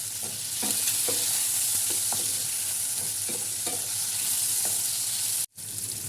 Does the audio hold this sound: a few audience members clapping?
no